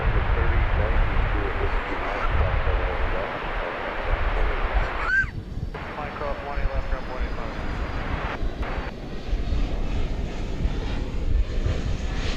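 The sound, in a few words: jet airliner at DFW Airport runway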